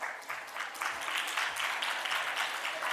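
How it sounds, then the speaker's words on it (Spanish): Audience applause at a summit-style symposium event, a dense, steady wash of many hands clapping that fills the whole stretch at fairly loud level with no talk over it. "Denle la bienvenida con un fuerte aplauso."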